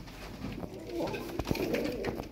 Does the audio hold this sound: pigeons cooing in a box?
yes